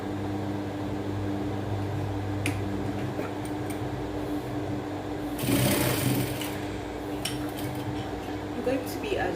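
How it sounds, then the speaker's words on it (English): A sewing machine joins fabric pieces with a continuous, fast mechanical whir that runs steadily and sits close, with a brief louder clatter partway through. "Let's move to the sewing machine and do our joining."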